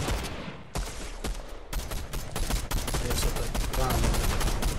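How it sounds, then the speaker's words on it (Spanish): Rapid gunfire in a Fortnite firefight, dense overlapping bursts and single shots crackling nonstop, loud and close, with a brief lull near the start before the shooting swells and keeps going. "En medio de un tiroteo"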